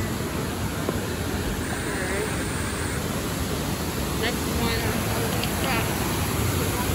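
Steady broadband rush of a waterfall at Disneyland during Halloween Time, a dense continuous wash of water close by, with faint voices and park sounds mixed underneath.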